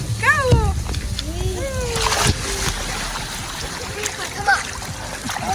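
Children splash and play in water at a resort splash pad in Curacao, with spraying and splattering sounds and excited kids' voices calling out over the steady wash.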